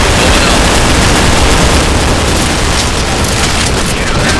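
Grenades going off in the shooter game Counter-Strike: Source, a dense, loud wall of booming blasts and rapid gunfire that fills the whole moment without a break.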